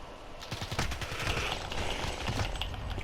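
Pistol gunshots in a video game: a fast string of quick sharp shots over a dense, steady background of game noise, moderately loud throughout.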